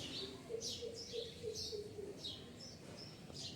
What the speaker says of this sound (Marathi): त्या पक्ष्यांचा आवाज बघा